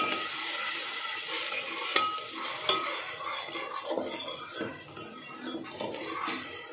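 Spiced minced mutton kofte masala with turmeric, salt, coriander and red chilli sizzles and fries in a pan while a utensil stirs steadily, with two sharp scrapes and light clinks of metal against the pan.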